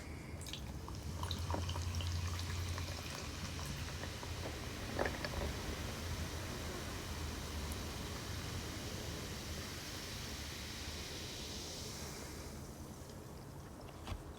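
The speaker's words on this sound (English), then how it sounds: "Just listen to it fizz." Blueberry pomegranate sparkling water fizzes steadily while poured into a cup, a continuous soft hiss with scattered drips and small splashes, close and fairly quiet, with no voices.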